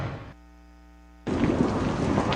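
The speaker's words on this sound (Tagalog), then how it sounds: "Naku, umuulan na naman." Steady rain and rolling thunder fill the air, first a brief sustained tone then a loud, dense wash of heavy rainfall with rumbling thunder, close and continuous.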